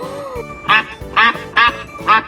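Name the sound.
duck quacking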